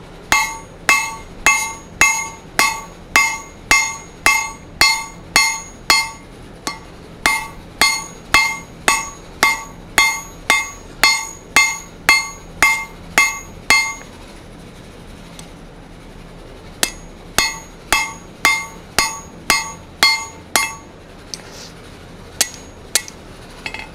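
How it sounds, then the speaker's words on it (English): Sharp metallic rounding-hammer strikes on an anvil horn ring out in fast, regular bursts during slot punching, pausing briefly before resuming, with a bright clanging tone on each blow. "I've got a rounding hammer"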